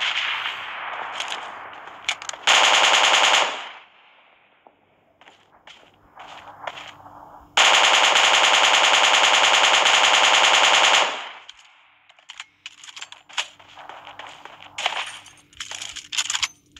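Machine gun fire in the mobile battle-royale game PUBG Mobile Lite comes in two long, loud, unbroken bursts, separated and followed by scattered single shots, clicks and shuffling footsteps; no voices.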